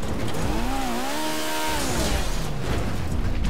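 Light, fast car in GTA RP gameplay, its engine revving with rising and falling pitch over continuous loud rumbling and road noise.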